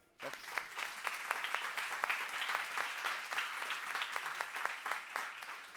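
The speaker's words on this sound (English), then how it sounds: "Why don't we give them an applaud?" Seminar audience applauding, a steady round of clapping that starts abruptly after a brief silence, with some individual claps standing out sharply, moderately loud throughout.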